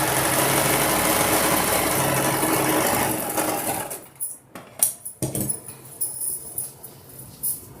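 A sewing machine runs steadily for about four seconds while stitching a long two-in-one maxi gown with a frock skirt, then stops, leaving softer scattered handling and fabric noises.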